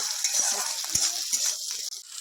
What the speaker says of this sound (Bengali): দিয়ে এবার এই পেঁয়াজটাই ভালো করে একটু ভাজা ভাজা হবে